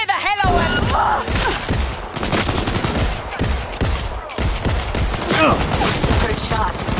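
Gunfire in the video game Cyberpunk 2077, loud rapid bursts of shots and sharp impacts crowding together over a few seconds, mixed with shouting voices and busy combat clatter.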